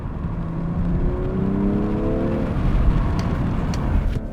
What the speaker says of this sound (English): I think there's about an equal balance between the exhaust sound and the engine sound.